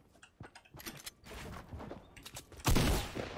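Rapid distant bursts of gunfire with sharp cracks and rattling, ending in a louder, closer blast, in a game-like soundscape.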